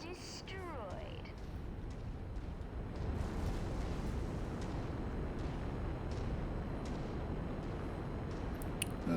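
A destroyed mech explodes in the video game Mechwarrior 5, a loud sustained rumbling blast of broadband noise that swells after a few seconds and holds steady, with game sounds and chirps at the start.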